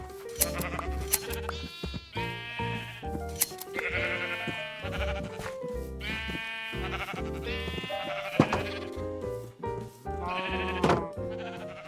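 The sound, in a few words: sheep bleating in the video game Minecraft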